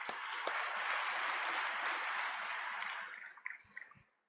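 Audience clapping together in a hall at a Brahma Kumaris stage event, honouring a remembered mother, steady dense applause that tapers off into scattered claps near the end.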